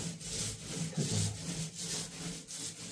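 Rhythmic back-and-forth rubbing as paint is spread across a wall by hand, a close, raspy swishing repeated in steady strokes about every half second.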